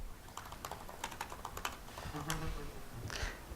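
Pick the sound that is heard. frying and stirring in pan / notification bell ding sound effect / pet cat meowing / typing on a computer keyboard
typing on a computer keyboard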